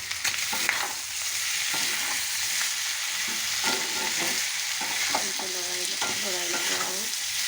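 Meat with ginger fries in a pan under a steady sizzle, with repeated close scraping strokes of a spoon stirring it throughout.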